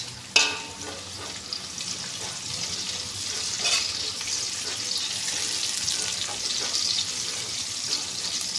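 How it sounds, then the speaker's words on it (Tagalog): Sliced onions drop into hot oil that has turned golden brown, setting off a sharp burst followed by a loud, continuous sizzle that holds steady close by, with no talking. "Gold brown na, sibuyas na, taktak na natin. Lagay na natin ang sibuyas."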